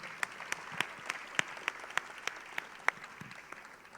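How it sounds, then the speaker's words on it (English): Faint, scattered applause for children at a conference opening session, made of separate sharp claps at a steady, fairly even pace. "applause for the kids"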